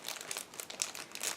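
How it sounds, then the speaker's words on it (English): A plastic bag holding parts of a 1/24 scale model car kit crinkles and crackles as it is opened, in quick close bursts of rustling with no talking. "Now again I'm opening next plastic bag."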